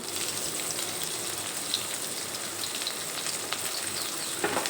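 Papaya pieces with a pinch of salt frying in hot oil in a pan, giving a steady, even sizzle throughout with a few small crackles, close and fairly quiet, with no talking.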